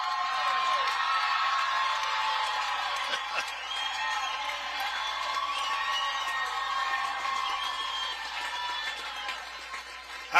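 Stadium crowd at a night college softball game in Honolulu, Oklahoma against Hawaii, cheering and whooping after a home run, a steady loud roar of many voices that holds throughout with whistles and shouts on top.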